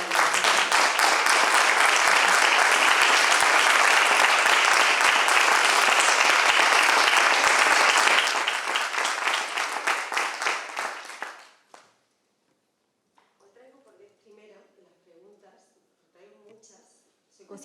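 Loud, sustained audience applause welcoming a speaker on stage, dense clapping that holds steady for about ten seconds then fades out, followed by quiet speech.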